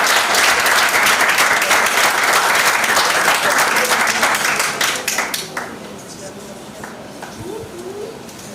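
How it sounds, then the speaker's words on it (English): Audience applauding high school debaters at the close of a debating competition round, a dense, sustained clapping that fades and thins toward the end, with a voice faintly audible as it dies away. "can we give a final round of applause for all of our debaters this evening?"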